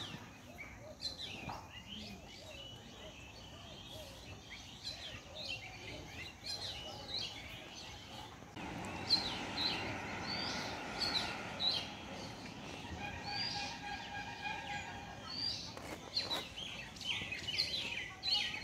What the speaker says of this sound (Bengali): পাখিগুলোকে দেখা যাচ্ছে না, শুধু ওদের গলার আওয়াজই শোনা যাচ্ছে।